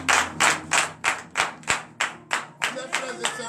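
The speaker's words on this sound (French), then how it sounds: "donner de vives acclamations à notre Seigneur Jésus" A church congregation at a morning prayer service applauds in rhythmic bursts of clapping, loud and close, with a few low thuds in the background.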